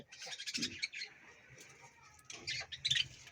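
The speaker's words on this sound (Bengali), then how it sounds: "এটা আমার জাবা পাখির কলোনি" Java sparrows in their colony cage chirp in quick, high bursts that cluster and fade, moderately close, with a brief lower squeak partway through.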